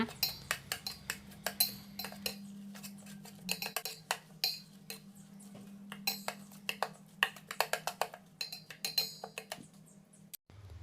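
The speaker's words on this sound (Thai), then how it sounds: "แล้วก็คนให้เข้ากันอีกครั้งหนึ่งนะคะ" Metal utensil clinking repeatedly against a bowl while stirring egg mixture with butterfly pea flowers, irregular rhythm, close and fairly crisp, with a low steady hum underneath and no talking.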